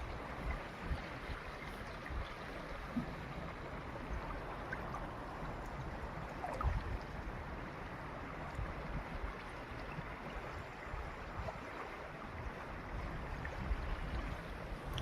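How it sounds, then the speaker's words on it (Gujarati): A river flowing through farmland, heard as a steady, low wash of moving water that holds constant and fairly quiet the whole time, with no voices. "આવી છે અમારી નદી મિત્રો."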